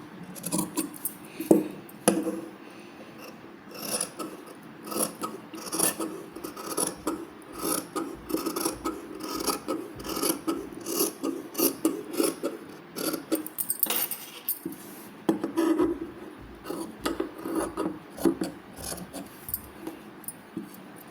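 Blouse fabric being cut for a belt part, heard as a steady run of close scissor snips and cloth rasps, with repeated short crisp cuts and rustling and no talk.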